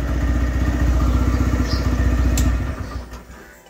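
A Raider 125 motorcycle engine idles close by with a steady, pulsing low thump and some clatter, then quiets near the end; the bike has just been washed and has an oxygen sensor problem.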